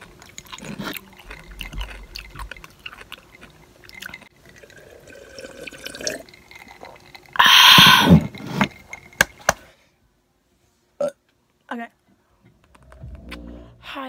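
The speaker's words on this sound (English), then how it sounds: "it's just the chairs upstairs scooting" Chairs scooting across a floor upstairs make one loud, rough, groaning scrape lasting about a second, followed by a few short, faint knocks, with people talking quietly around it.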